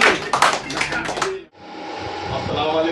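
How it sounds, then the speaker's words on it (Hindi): Clapping at a gathering of ustads and khalifas, a burst of loud, close hand claps in the first half, followed by a steady broadband hiss. "बजाओ ताली।"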